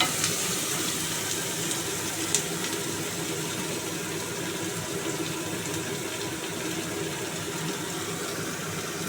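Finely chopped onion frying in hot oil gives a steady, dense sizzle that stays even and fairly close throughout, with no talking over it.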